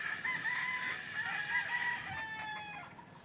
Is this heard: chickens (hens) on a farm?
yes